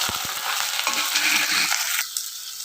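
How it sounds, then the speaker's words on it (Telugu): Onion, green chilli, curry leaves and drumstick pieces are stirred in hot oil with tempering spices for a drumstick curry cooked in milk, giving a loud, steady sizzle with scraping stirs, the sizzle dropping away near the end. "ఉల్లిపాయ, పచ్చిమిరపకాయ, కరివేపాకు, ములక్కాయ అన్నీ వేసేసుకొని ఇలా తిప్పేసుకోవాలండి"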